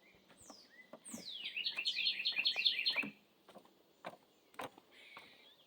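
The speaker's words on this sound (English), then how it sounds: "Hear those birds?" Small birds chirping near a boardwalk at a Florida nature area, a quick run of bright trilling notes followed by scattered single chirps and calls, fairly close and clear against quiet surroundings.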